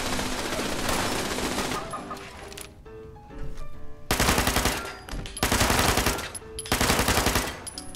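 Powerful defensive turrets in Fallout 76 fire loud sustained bursts of automatic gunfire, several rapid volleys separated by brief lulls, close and dominant with no talking.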